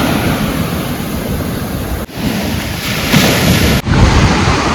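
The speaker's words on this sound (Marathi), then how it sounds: "हे बघू शकता मस्तपैकी कसला मस्त समुद्र आहे इथे मित्रांनो" Sea waves wash onto a beach on Koh Rong island in Cambodia, a loud, continuous roar of surf with wind buffeting the microphone and two brief dips in the rush.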